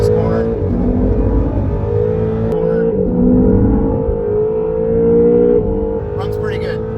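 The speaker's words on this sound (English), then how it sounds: "4-wheel launch coming off this corner" A 2020 Acura NSX hybrid with all-wheel drive launches hard out of a corner at Road America, engine droning loud and steady as revs climb and shift, heard from inside the cabin under voices.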